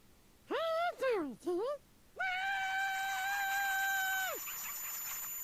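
A video game character lets out several short, sharp screams in quick succession, then one long sustained shriek that holds steadily before cutting off, loud and close over a quiet background.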